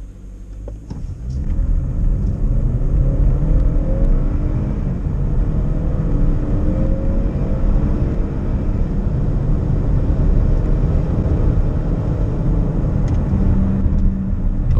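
A Kia Sportage 2.4 on winter studded tyres accelerates hard from a standstill to 100 km/h, its engine rising into a sustained loud drone mixed with heavy road and tyre rumble from inside the cabin.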